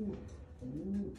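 A breeder's pigeons kept at home coo close by in a few soft, throaty, repeated phrases, with no talking.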